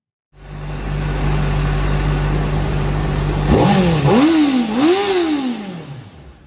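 A 2023 Honda CBR600RR sport bike starts up and idles with a close, steady drone, then gets two or three sharp throttle blips whose pitch shoots up and falls away before it settles back.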